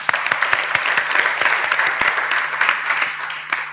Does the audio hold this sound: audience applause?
yes